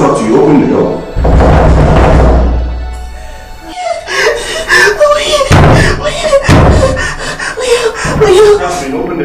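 Heavy knocking and banging on a door in a Ghanaian movie drama scene, loud repeated thumps, with someone shouting and talking over the pounding.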